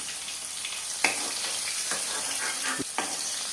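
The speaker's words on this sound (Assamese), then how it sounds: "এয়া মোৰ মাছ ভজা হৈ গৈছে।" Pieces of fish fry in a pan with a steady, close sizzle and crackle, broken by a few louder spits and the scrape of stirring.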